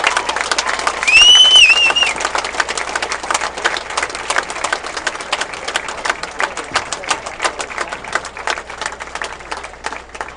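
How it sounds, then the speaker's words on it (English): A crowd at a football game between ICC and Coahoma applauds service members in a dense, steady round of clapping that continues throughout. A brief whistle or cheer rises near the start. "let's honor our service members with a grateful round of applause"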